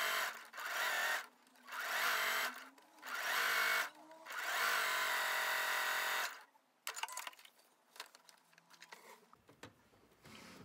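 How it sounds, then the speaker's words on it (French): A sewing machine runs a triple zigzag stitch on a swimsuit, four loud, close bursts of rapid stitching separated by short pauses, then stopping and giving way to light clatter of fabric and handling. "La deuxième étape se fait à la machine à coudre, au zigzag triple point, comme précédemment."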